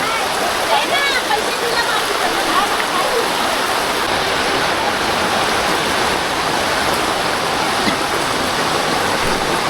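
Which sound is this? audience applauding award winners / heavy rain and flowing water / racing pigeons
heavy rain and flowing water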